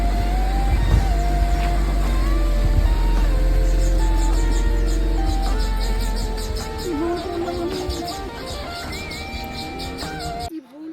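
A car engine starts and runs as a deep, steady rumble that holds for several seconds and then fades back, mixed with music and some voices.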